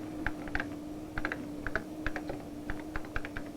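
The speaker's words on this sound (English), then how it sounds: "To enter information, you just type a letter, a document, or as in this case, paragraphs from your novel." Typing on an early-1980s microcomputer keyboard, a close, quiet run of irregular crisp key clicks in small clusters over a faint steady hum.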